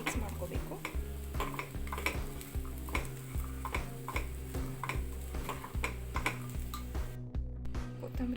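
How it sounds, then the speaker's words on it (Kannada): Masala corn being stirred with chilli powder, salt and pepper, a spoon scraping and clinking steadily against a bowl in a regular rhythm, close and clear, with a low hum underneath. "ಚೆನ್ನಾಗಿ ಮಿಕ್ಸ್ ಮಾಡ್ಕೋಬೇಕು."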